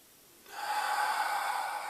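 A single slow, deep breath, steady and close, rising gently and then holding as a soft, even airy rush, as in calm meditative breathing.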